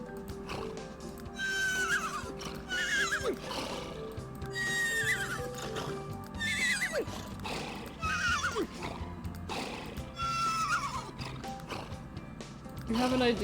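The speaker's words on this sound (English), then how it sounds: "That's enough horse noises for today." Repeated loud horse whinnies and snorts in The Sims 3 come every couple of seconds over a steady clip-clop of hooves, with a game-like backdrop.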